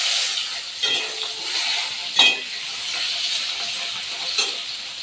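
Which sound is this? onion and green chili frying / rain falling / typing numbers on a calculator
onion and green chili frying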